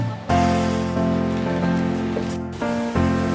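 Steady rain falls outdoors on Christmas Day as children go caroling, a dense continuous wash heard up close with a few brief dips and no voices.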